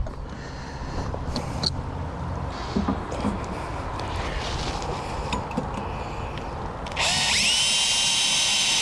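Power drill boring into a boat deck during a rubbguard repair, a steady close whirring grind that runs throughout and rises into a louder, higher-pitched spin near the end.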